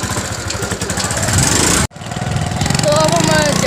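A motorcycle engine runs steadily nearby with a throbbing mid-range drone, briefly cutting out midway before resuming; a voice speaks over it.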